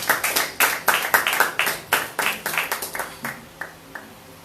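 Church congregation clapping hands in praise during a worship service, a fast run of sharp, close hand claps in an uneven rhythm that thins out and fades to a few scattered claps at the end.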